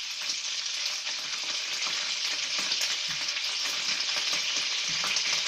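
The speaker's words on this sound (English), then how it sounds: "Butter cooked bacon with cherries." Cherry bacon sizzles in butter in a hot pan, a steady, dense, close crackle and spit with occasional stirring, continuous throughout with no voices.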